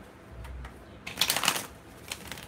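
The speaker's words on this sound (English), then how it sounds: "I'm actually just gonna shuffle and pull" A deck of tarot cards is shuffled close by, giving a quick flurry of crisp riffling snaps in the middle after a few soft taps, fairly quiet against a low room hum.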